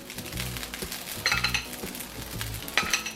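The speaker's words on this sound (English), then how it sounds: "We'll put some sauce on the shrimp." Garlic sauce goes onto shrimp in a hot pan for garlic shrimp lo mein, giving short bursts of sizzling along with utensil clinks and scraping over a low hum.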